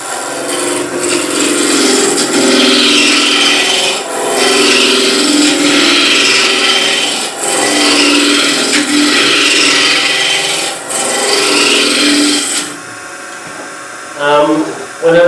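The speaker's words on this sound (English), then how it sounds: "When I'm roughing, I'm just really roughing it quick." A wooden box blank is roughed out on a lathe with a turning tool, a loud, close, continuous rasping cut in long passes with brief pauses, ending in quieter spinning and a voice.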